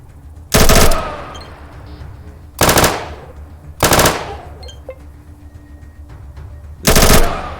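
Submachine gun bursts in the video game ATOM RPG: four loud, separate volleys of rapid automatic fire, each lasting about a third of a second, spaced irregularly, with a short echoing tail and no talking.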